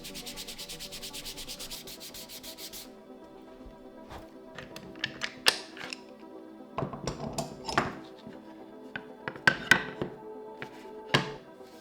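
Sandpaper scrubs against the clamped paper edges of a handmade pocket journal: a steady rapid rasping at first, then irregular scraping strokes mixed with sharp taps and thunks, close and fairly quiet, with no voices.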